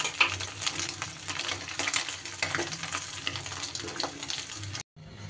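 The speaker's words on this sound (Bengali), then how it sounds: "সব মাছগুলো দেখুন বন্ধুরা সুন্দর করে আমার ভাজা হয়ে গেছে। হাই ফ্লেমে ভেজেছি" Fish fry in mustard oil on a high flame with a steady, moderately loud sizzle and occasional stirring clatter. The frying runs unbroken until a brief drop-out near the end.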